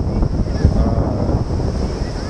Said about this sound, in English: This beach is very strong waves.